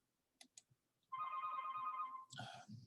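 A telephone rings steadily for about a second and a half as a loud electronic warble, with scattered faint clicks and soft movement noises before it and brief rustling after.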